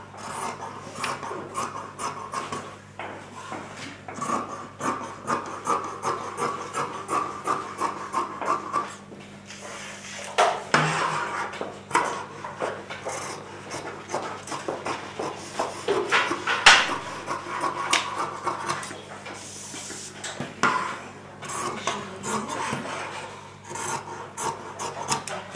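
Scissors cutting fabric around a garment pattern with a 1 cm margin, a close, steady rasping and rubbing of blades through cloth in short repeated strokes.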